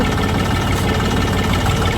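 A tractor engine running on a farm during groundnut harvesting, a loud, steady close rumble with constant vibration throughout and no voices.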